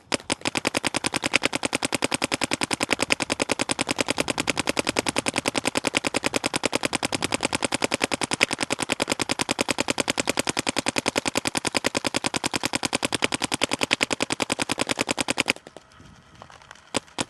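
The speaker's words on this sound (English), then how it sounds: "We're gonna shoot a hopper full of paint out of it." A Planet Eclipse Gtek 180R paintball gun empties a full hopper of paint in one long, loud, unbroken burst of rapid shots lasting about fifteen seconds. It then stops abruptly, leaving faint room noise.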